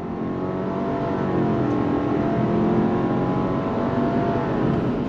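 A 2024 Subaru Outback Wilderness pulling away from traffic lights under smooth throttle, its CVT using simulated gears; a steady, continuous engine hum and road noise fill the cabin, rising slightly as it accelerates, with no talking.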